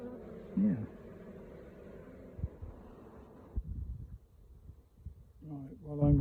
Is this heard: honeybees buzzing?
yes